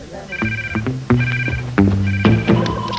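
An electronic ringtone from a gadget phone built into sunglasses plays a repeating melodic pattern of bright beeping tones, loud and close, several cycles over a few seconds.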